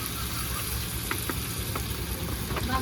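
Potato and green banana curry sizzling hard in a pan as water goes in, a dense continuous hiss and bubbling with a few faint clicks, close and steady throughout.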